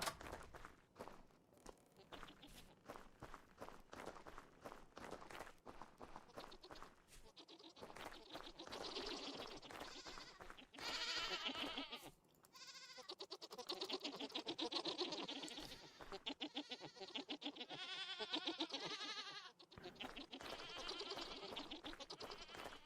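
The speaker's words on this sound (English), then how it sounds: "The goats are infuriating in this game." Goats in the survival game Vintage Story bleat repeatedly, with several drawn-out, wavering cries over constant rapid footsteps and clattering activity, all fairly quiet.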